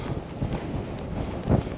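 Strong wind on a mountain summit in the Cairngorms buffets the microphone in a constant roar with gusty swells, one louder gust near the end; no voices.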